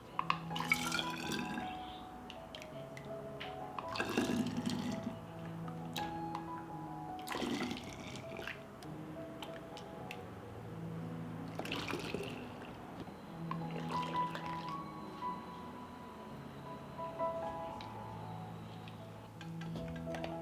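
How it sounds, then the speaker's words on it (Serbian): Hot fruit juice is poured into glass bottles, giving a quiet series of liquid pours and drips. Each fill brings a rising, bubbly gurgle, and glass clinks and taps come between the pours. "I sok sipam u flaše."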